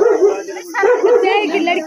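A dog barks and yips at a rural hill-village wedding gathering, short bursts close by mixed with people talking nearby.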